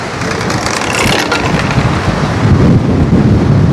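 Strong wind buffets the microphone on a beach promenade in Anapa during a stormy day, a steady broadband roar that swells louder toward the end, with no speech over it.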